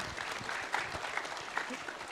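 An audience at a youth and sports office campus event applauds, a dense patter of many clapping hands at moderate level over the full stretch.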